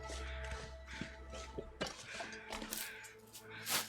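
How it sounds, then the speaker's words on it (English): Crows caw in The Long Dark video game, several harsh calls coming from a distance over a low ambient hum, with soft shuffling footsteps nearby. "I hear crows over that way"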